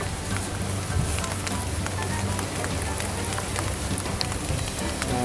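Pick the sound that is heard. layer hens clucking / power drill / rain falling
rain falling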